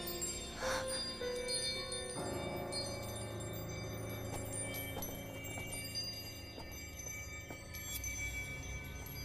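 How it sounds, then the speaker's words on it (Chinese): Dense metallic ringing tones swell and sustain over a steady background, growing fuller after the first couple of seconds. "铃声越来越响"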